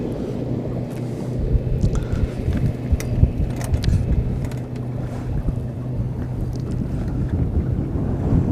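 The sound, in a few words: wind blowing over water while fishing from a boat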